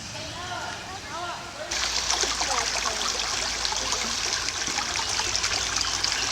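Creek water trickles and burbles steadily, a bright, close splashing wash that grows noticeably louder after the first couple of seconds and continues throughout, with faint voices early on.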